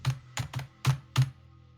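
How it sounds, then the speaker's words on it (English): Five loud, sharp clacks struck on a computer keyboard in an uneven rhythm, close up and alone, then quiet. "Clacks at the keyboard a couple times"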